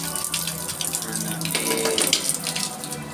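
Water pours steadily from a cooling tower line, a continuous splashing rush heard close by with no one talking.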